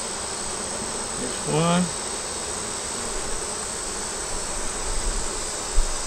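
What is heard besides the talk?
honey bees buzzing at an open hive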